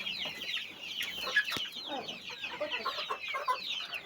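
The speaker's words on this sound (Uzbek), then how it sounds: "Mana bu yerga hamma jo'jalar to'plab bo'lgan." Many chicks chirping busily in high, overlapping peeps, with a few lower clucks mixed in, a constant crowded chatter close by in a garden.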